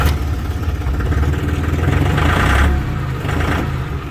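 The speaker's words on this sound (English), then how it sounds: "Let's go ahead and swing the engine." A Dongfeng 304G2 utility tractor's diesel engine runs close by with a rough, throbbing clatter, rising briefly mid-way before settling back to a steady idle, with no talk over it.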